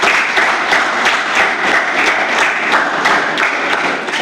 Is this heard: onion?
no